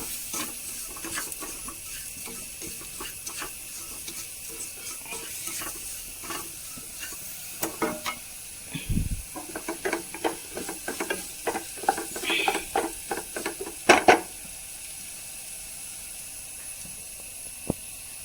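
Rice stirred and sautéing in a pan with ginger garlic paste for chicken rice, a steady soft sizzle broken by repeated scraping and clinking stir strokes that grow louder toward the end, with no talking.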